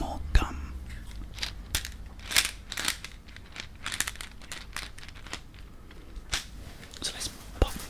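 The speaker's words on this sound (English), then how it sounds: "chewing some more gum." Gum chewed close to the microphone in a quiet ASMR setting, with irregular wet clicks, smacks and crackles, soft and fairly steady with a few sharper snaps.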